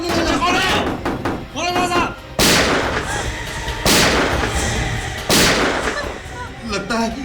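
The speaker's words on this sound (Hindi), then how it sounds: "गोली चलने की आवाज है।" Three loud, sharp gunshots ring out a second or so apart, each leaving a short echoing tail, with people talking before and after, in a TV crime drama scene.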